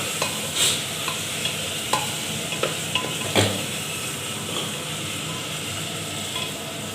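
Mutton and potatoes fry in a pan with a constant bright sizzle, while a utensil stirs them in light scraping strokes and occasional clinks, close up and without speech.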